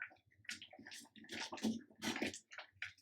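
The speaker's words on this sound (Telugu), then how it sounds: "ఉడుకుతుంది చూడు" Rice with jaggery bubbles as it boils in a pot, giving close, irregular gurgling pops and splutters in short bursts.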